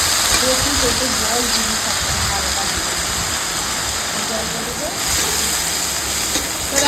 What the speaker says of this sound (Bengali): কড়াতে তেল দিয়েছি আর এখন দিয়ে দিচ্ছি শুকনো লঙ্কা ফোড়ন